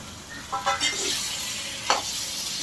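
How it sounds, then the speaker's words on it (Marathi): Spiced mashed potato stuffing for veg frankie stirred and pressed in a hot pan, giving a few soft scraping, squishing strokes over a faint steady sizzle, with one sharper scrape near the end. "फ्रँकीसाठी लागणारं स्टफिंग एकजीव करून घेऊ. मसाले पूर्ण बटाट्याला कोट करून घेऊ."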